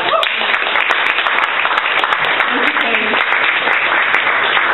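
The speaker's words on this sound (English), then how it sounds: "give her a big round of applause." An audience at a storytelling event bursts into dense, continuous applause, loud and close, many hands clapping steadily for the whole stretch with no pause.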